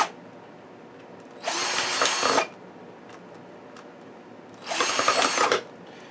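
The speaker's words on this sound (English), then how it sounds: "I love my trusty drill" A power drill bores through a stack of four plastic cups in two separate bursts of high, whirring grind, each about a second long, with a quiet pause between them.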